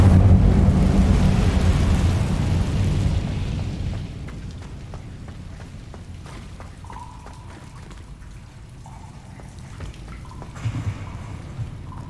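Casting the Incendio fire spell in Hogwarts Legacy gives a loud, roaring burst of flame that rumbles and then slowly fades into quieter crackles and scattered ambient clicks.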